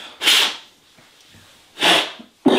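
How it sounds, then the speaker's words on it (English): Two forceful, breathy sneezes about a second and a half apart, close and loud, with a third sharp burst just starting at the end. "I'm going to start sneezing any second, I promise."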